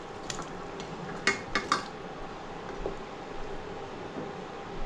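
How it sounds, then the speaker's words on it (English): Fried paneer is added to boiling gravy in a pot for hara chholia te paneer, bringing a few clinks of utensil on metal over a steady simmering hiss. "I'm just going to add the paneer which we have fried"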